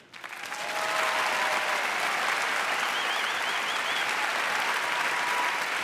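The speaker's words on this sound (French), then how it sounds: "Une cage qui ne s'ouvre qu'aux applaudissements" Loud, sustained audience applause at a stand-up comedy gala in Montreux, swelling in within the first second and holding steady as dense clapping from a large crowd.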